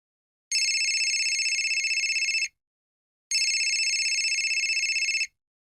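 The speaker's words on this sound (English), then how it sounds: "My mobile phone rang and I jumped out of bed." A mobile phone rings in two long electronic bursts, each about two seconds with a short pause between, loud and clear in an otherwise silent room.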